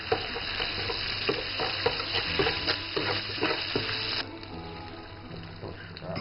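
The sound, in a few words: beef and chili bean sauce stir-frying in a pan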